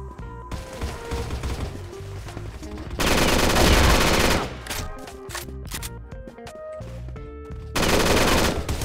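Rapid bursts of gunfire in the game CrossFire, sharp repeated shots in dense volleys separated by brief pauses, with faint talk in the background.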